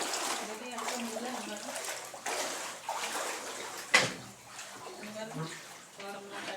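Floodwater sloshes and splashes around a flooded house and garden, close and moderately loud in uneven bursts, while people talk over it.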